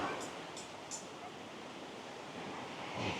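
Waves on Sao Beach, Phu Quoc Island, Vietnam, wash in as a soft, steady surf hiss mixed with wind rumble on the microphone, faint and continuous, with a few brief clicks near the start.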